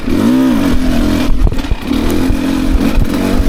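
A 2024 Beta 300 RR Race Edition dirt bike engine revs loudly on a rocky trail, rising and falling through strong throttle blips with clattering, close and continuous with no talk.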